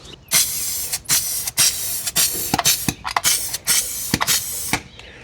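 A spray paint can sprays a 1967 Camaro in about a dozen short, loud hissing bursts of uneven length, close up and with no talk.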